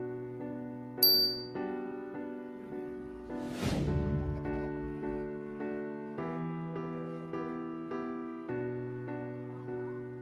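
A single bright notification bell ding rings out early, crisp and short, over a bed of soft sustained music that continues afterward with a whooshing swell.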